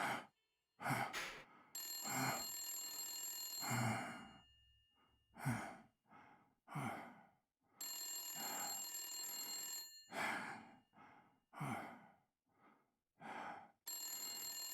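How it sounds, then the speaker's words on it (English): Phone ringing in the video game Blacksad: Under the Skin, a bright electronic ring repeating in long bursts, mixed with loud sighs, gasps and heavy breathing between and over the rings. "Answer the phone, jackass."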